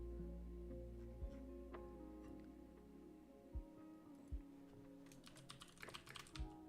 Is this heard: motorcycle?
no